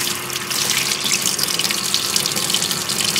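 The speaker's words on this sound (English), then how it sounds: "To run hot water. You got hot water instantly." Hot water runs steadily from a tap fed by an Eccotemp L7 tankless on-demand gas water heater in a pole barn, a close, continuous gushing splash that stays at an even level throughout.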